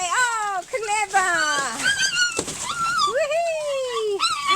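A seven-week-old puppy whimpers and yips in high, sliding whines, repeated several times close by while a person speaks encouragingly over it.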